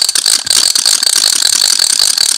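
A hand-cranked ratchet rattle noisemaker of the kind swung at British protests, whirling in a loud, continuous dense clatter of rapid clicks for a couple of seconds with no voices.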